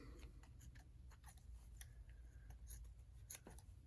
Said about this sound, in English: Not the best scissors, but that's okay.